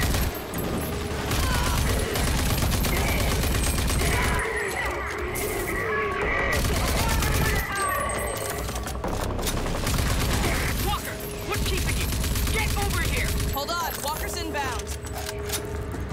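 Rapid gunfire in the first-person shooter Rage 2, with bursts of shots and booms that run almost without a break, broken by short pauses, heard loud and close.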